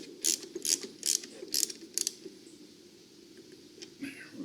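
A ratchet wrench tightens a car battery clamp on its post, giving several quick bursts of sharp metallic clicks, close and fairly loud, then a quieter stretch with faint clicks near the end.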